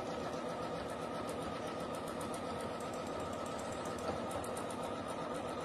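A sewing machine runs continuously during free-motion quilting of fern-style feathers, a steady, fast, even mechanical chatter at low level throughout with no pauses. No one speaks.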